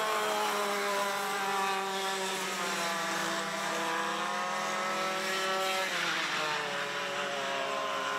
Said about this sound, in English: Coming around for your checker flag is the 75, Jalen Ross.